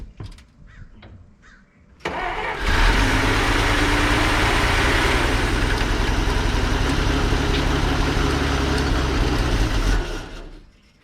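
A 1933 Dodge Brothers two-door sedan engine fires up on starter fluid and roars at a loud, steady run for about eight seconds before cutting out, with quieter clatter before it catches.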